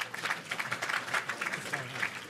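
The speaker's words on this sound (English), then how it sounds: "Give 'em a round of applause" Audience applause follows a hackathon demo at an MLH UK live demo session. The clapping is steady and dense but fairly quiet and distant, running for a couple of seconds.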